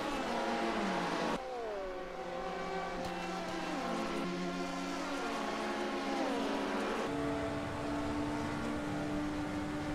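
A McLaren sports prototype race car accelerating onto the back straight at Road Atlanta in a CFS racing sim six-hour endurance event, its engine whining up through repeated gear shifts, loud and close throughout.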